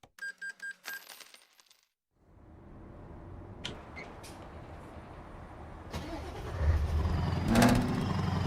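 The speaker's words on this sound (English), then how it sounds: "Oh, what the other engine sounds like." Scania truck engine in Euro Truck Simulator 2, heard after a burst of coin-like clinks: a steady low rumble that builds and revs louder toward the end, close and continuous.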